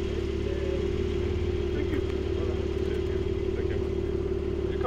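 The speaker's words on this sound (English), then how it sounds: "This is how you pop wheelies up." A motorcycle engine running at a steady mid-range drone, as if held while popping a wheelie, continuous and fairly close with faint talk beneath it.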